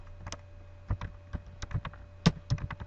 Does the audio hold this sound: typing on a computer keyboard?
yes